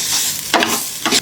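Rice stirred with biryani masala and garam masala in a hot pan, a soft steady sizzle broken by two brief scraping strokes of the spoon, close with no voices.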